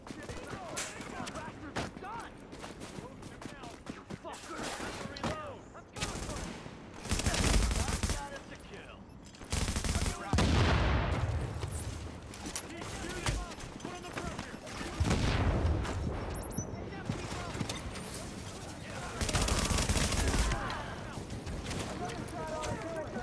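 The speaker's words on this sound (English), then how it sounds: "Shooting me here in the street." Gunfire in The Division's Dark Zone, with repeated bursts and volleys of shots ringing out in a street firefight, mixed with game ambience and players talking over it.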